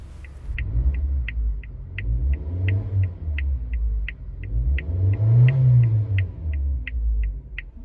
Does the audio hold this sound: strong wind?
no